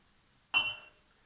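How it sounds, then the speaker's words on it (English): A single bright clink rings out as sparkling wine is topped up in a glass, with a short fizzing tail that fades quickly in a quiet room. "I need to pour a little bit more in to get the fizz going."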